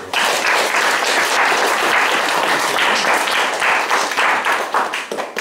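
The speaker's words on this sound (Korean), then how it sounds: "박수 한번 쳐주시죠" Steady audience applause fills a room, a dense, loud wash of many hands clapping close by that holds for several seconds and thins slightly toward the end.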